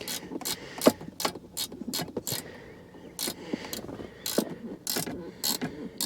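Locking flex-head ratchet clicking in quick bursts while tightening inside the console of a 2018 Jeep Grand Cherokee during a vault safe install, close and crisp, in irregular runs of ratchet clicks with pauses between.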